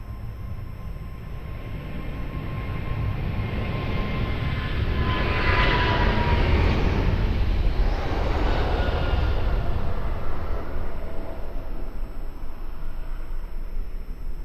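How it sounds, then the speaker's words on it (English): A Boeing 777 rolls for departure at Lisbon Airport, its jet engine roar building and swelling to a loud peak midway, then holding as a broad distant rumble. "Boeing 777, rolling for departure."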